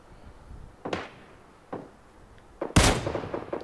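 Sniper rifle shots in the mobile battle royale game PUBG Mobile: three sharp cracks spaced roughly a second apart, the last the loudest and followed by a short rumbling tail, with no talking.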